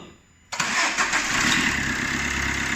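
A 2012 Fiat Linea 1.3 Euro 5 diesel with 179,000 km and an injector ticking fault cranks and fires up after a half-second of quiet, then settles into a close, steady, loud idle.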